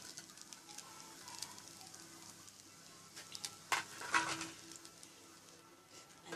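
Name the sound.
fried eggs and potatoes added to frying rice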